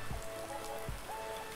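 Steady rain falls on a surface in winter, a dense even patter with a few louder low thuds, heard alone without voices.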